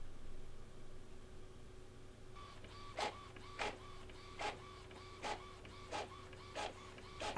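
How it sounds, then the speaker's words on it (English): A printer runs with a soft background hum, its print head sweeping in regular bursts about every half second, fairly quiet and alone. "And now I'm ready to send the design to the printer."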